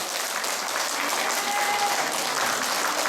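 A Catholic charismatic prayer meeting congregation claps together in thanks, a sustained, even wash of applause from a large gathered crowd, with no clear speech over it.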